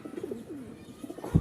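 Pigeons in a cage give soft, low cooing in a short, close, gentle run with no voices.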